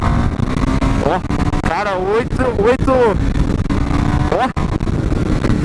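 A KTM Duke 390 motorcycle engine revs repeatedly up to high rpm, its pitch sweeping up and falling back in several close, loud pulls, while someone talks over it.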